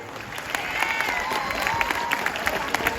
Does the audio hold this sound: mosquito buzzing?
no